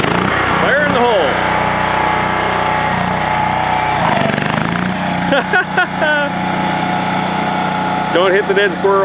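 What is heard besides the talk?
John Deere 170 lawn tractor racer engine running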